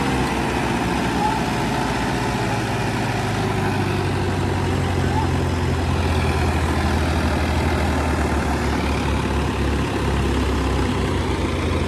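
A tractor engine runs at a steady medium throttle while pulling a trolley stuck in soft ground, a constant low heavy drone close by with little change in pitch.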